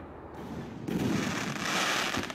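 Quest firework shells bursting in a loud, continuous rush of crackling explosions that swell midway and keep roaring to the end, with no voices.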